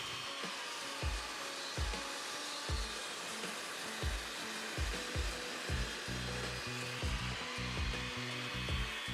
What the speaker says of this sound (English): we move on a little bit to the miter saw to cut the ends at a 45